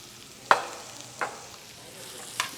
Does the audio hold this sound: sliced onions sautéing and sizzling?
yes